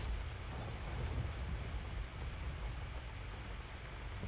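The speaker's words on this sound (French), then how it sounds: "avec la tempête, il pleut dans le bateau" Steady storm rain on a ship at sea in Sea of Thieves, a dense constant hiss with low rumbling underneath, unbroken and fairly faint throughout.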